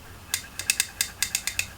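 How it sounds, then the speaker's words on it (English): Rapid clicking rattles, about ten quick sharp ticks in an uneven rhythm, close and fairly crisp, as a makeup brush is scrubbed against a Color Switch dry brush cleaner to remove black eyeshadow. "that sound is, I'm just using my color switch thing to get the black off of"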